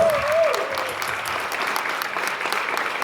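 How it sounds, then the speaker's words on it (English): A crowd at a sci-fi convention Q&A in Stockholm applauds for Samantha Fox, a steady, even roar of clapping from a large audience, with a faint whistle at the very start. "big applause for Samantha Fox"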